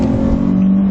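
Steady low drone of a Dodge Charger SXT AWD V6 engine held at elevated revs, a continuous loud hum with a strong low tone and no talk over it.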